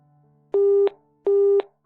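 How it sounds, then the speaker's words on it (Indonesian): Telephone disconnect tone after a call ends, two identical steady beeps about half a second apart, clean and prominent against near silence. "Sambungan telepon terputus begitu saja."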